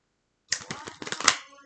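A quick riffle of tarot cards being shuffled, a rapid flurry of soft clicks and slaps lasting about a second after silence.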